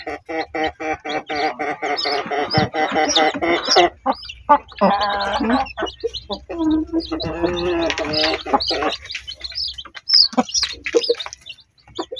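Newly hatched chicks, a third batch, chirp loudly and continuously in a dense, overlapping chorus of high peeps up close, with brief pauses and clucking from the hen mixed in.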